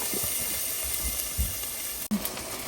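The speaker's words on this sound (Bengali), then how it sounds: "আরেক ব্যাচ ভাজির শব্দ হবে হয়তো আমার বেগুন ভাজি চলছে" Eggplant slices frying in a pan, a steady hiss of sizzling oil heard close and continuous, with a brief clunk near the end.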